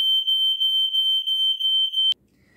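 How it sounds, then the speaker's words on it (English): A household smoke alarm goes off with a loud, shrill tone that pulses rapidly and steadily for about two seconds. It then cuts out abruptly, leaving near silence. "right before I went to press record, the fire alarm went off."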